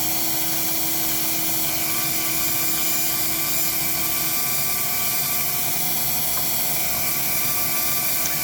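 A DIY mini CNC mill cuts with a 3mm bit, giving a steady high-pitched whine with a constant motor drone throughout, close and continuous with no talking.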